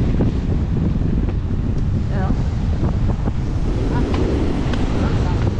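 Strong gusty wind from an approaching typhoon buffets the microphone continuously, with surf rumbling underneath and brief voices breaking through.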